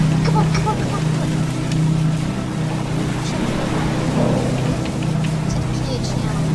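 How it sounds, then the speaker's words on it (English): Ship propellers turning in an HMHS Britannic video game give a steady low mechanical drone that runs unbroken at an even level, with faint background wash throughout. "the propellers are still working"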